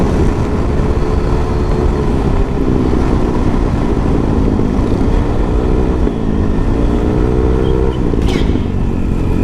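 A Yamaha Aerox 155 scooter cruising on a smooth road, its engine holding a steady drone under heavy wind rush, with slight pitch shifts as the throttle varies.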